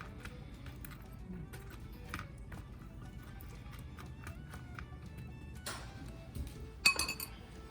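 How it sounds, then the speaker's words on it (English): A metal spoon pushes chopped summer squash around a sheet pan into a single layer, giving faint, scattered clinks and scrapes over a quiet room, with a brighter clatter near the end. "take our spoon and just move some of it around so it's just in a single layer."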